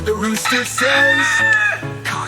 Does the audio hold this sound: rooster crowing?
yes